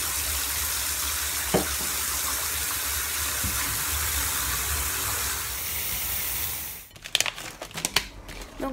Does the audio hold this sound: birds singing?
no